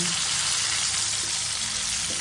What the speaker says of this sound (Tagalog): madali lang siyang maprito kasi manipis lang talaga